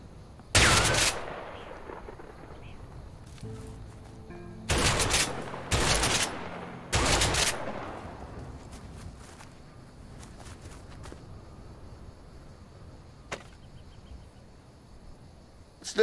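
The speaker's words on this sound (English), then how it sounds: "Shotgun. Now this one does a lot of damage." Shotgun blasts in the video game A Way Out, four loud booming shots with echoing tails, one alone and then three in quick succession, over a quiet ambient bed with insect-like chirping.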